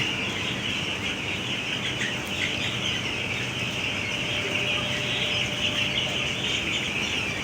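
Ten-day-old chickens in a poultry farm shed make a dense, constant chorus of high peeping and chirping, loud and unbroken, with no talk over it.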